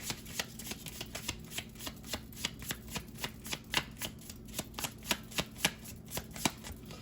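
Tarot cards are shuffled slowly and steadily, each riffle a soft, crisp snap repeating in an even rhythm up close, with no talking.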